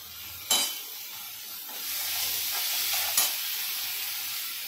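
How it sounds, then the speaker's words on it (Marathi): Tomato added to onions frying in a pan and stirred: a steady frying hiss that swells after a couple of sharp clinks at the start and again near the end, close and moderately quiet. "नंतर आपण टोमॅटो टाकायचा"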